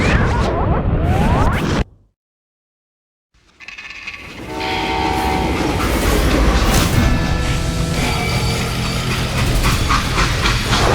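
A freight train in Call of Juarez rolls heavily along the rails with a steady clattering rumble, broken early on by a brief moment of silence before the noise returns.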